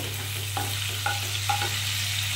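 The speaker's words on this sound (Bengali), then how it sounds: "এবারে আমি এর মধ্যে ফোড়ন দেব গোটা জিরে অল্প করে দেবো" Whole cumin seeds sizzle and crackle as they temper in hot oil in a pan that earlier held prawns, a steady close frying hiss with a few sharp pops, no voices.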